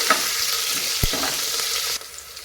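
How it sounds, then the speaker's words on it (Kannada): Green chillies, ginger and finely cut garlic fry in oil for a sambar, with a close, steady sizzle and one sharp utensil knock midway before the sound drops quieter. "ಇದೆಲ್ಲ ಈಗ ಎಣ್ಣೆಯಲ್ಲಿ ಫ್ರೈ ಆಗಲಿ ಚೆನ್ನಾಗಿ"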